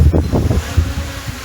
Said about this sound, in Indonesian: Angin kenceng banget.